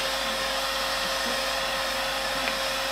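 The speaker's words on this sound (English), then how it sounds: "But that's actually a heat gun, isn't it?" A crafter's heat gun blows a constant, even whirring roar at close range, steady with no pauses.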